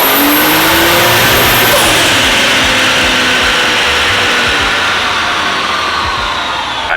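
A BMW E36 wagon's non-VVTi engine revs hard under acceleration, a loud continuous roar climbing in pitch through the rev range and holding steady power to the end, with no talking over it.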